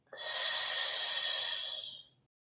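A single long, close exhaled breath during a Pilates exercise, a steady airy rush lasting about two seconds before it stops abruptly into silence.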